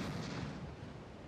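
Naval gunfire from enemy warships in World of Warships, a dense rumbling barrage of booming shots and blasts that runs continuously through the moment with no talking.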